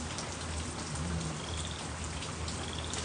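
Light rain during Texas flooding, easing toward a fine mist, gives a steady, even hiss of drops close by with no talk over it.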